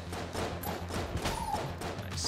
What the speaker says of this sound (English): Nice, sick explosion.